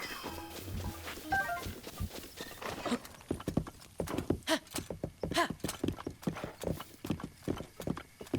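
Horse hooves clip-clop steadily at a riding gait in Zelda: Breath of the Wild, a dense run of close, rhythmic hoof strikes, with music heard briefly at the start.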